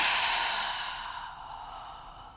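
Someone draws a long, slow deep breath during a shoulder and back-arching flexibility exercise, a breathy airy sound that stays close and gradually fades, with no talking.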